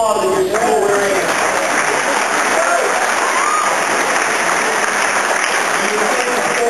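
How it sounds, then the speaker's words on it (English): A large crowd at a high school ring day ceremony claps in sustained, loud, even applause, with a voice briefly heard over the clapping. "Let's hear some applause if you're still wearing it."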